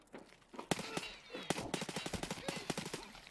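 Rapid gunshots, likely from a pistol, crack out in fast irregular bursts. They are fairly faint, with a few quieter shots early on and a dense run of them later.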